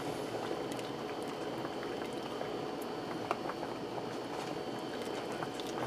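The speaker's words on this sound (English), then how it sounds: "Now I turned this onto the saute brown setting to get this simmering." Beef bourguignon thickened with a flour paste simmers in a pressure cooker on its saute brown setting, giving a steady, close bubbling and popping that runs alone through the clip at an even level.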